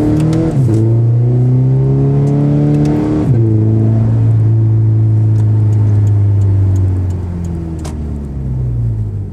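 Automatic Toyota FR-S accelerating hard from inside the cabin, the engine note climbing loud and close, then dropping sharply at each of two upshifts before easing off near the end.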